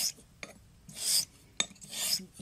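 A Dovo Barbarossa straight razor stroked across a convex hone, a few short rasping strokes spaced apart with brief sharp contacts between, close and clear.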